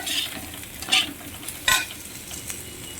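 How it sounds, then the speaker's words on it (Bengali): Ridge gourd pieces sizzling in oil in a pan, a constant frying hiss broken by a few scraping stirs of a spatula, close and alone. "এবারে আমি ঝিঙেগুলো দিয়ে দিলাম"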